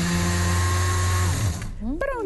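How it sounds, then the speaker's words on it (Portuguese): Kitchen blender whirring loudly as it mixes pudding ingredients including demerara sugar and light margarine, a steady motor drone that winds down near the end, followed by a brief voice. "Bate no liquidificador."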